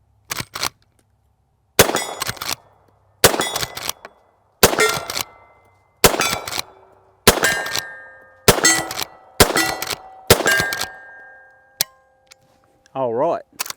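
A Henry Big Boy Steel lever-action rifle fires .32 H&R Magnum rounds outdoors: about nine sharp reports, spaced a second or so apart, each followed by the metallic clack of the lever cycling, then a short ringing tail at the end.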